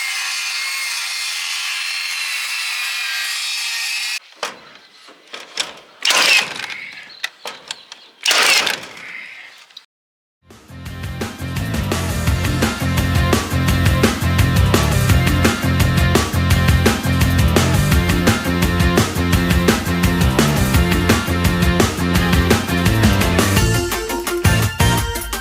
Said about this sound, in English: the first thing we're doing is taking off these old boards